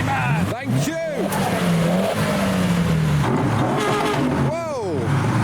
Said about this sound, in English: Whoa, that was a tasty sounding E36.